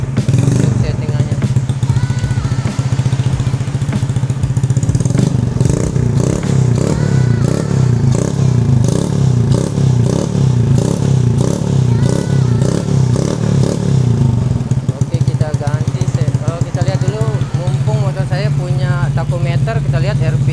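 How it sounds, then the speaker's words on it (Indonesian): A Honda C70 motorcycle engine fitted with a racing CDI on setting 1 revs repeatedly, close and loud, with rhythmic rising and falling engine bursts and some clatter, while a person talks over it. "Kita tes geber ini di settingan 1."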